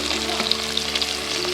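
Onions fry in hot oil for mutton biryani, making a loud, steady, close sizzle that crackles continuously throughout, with no voices.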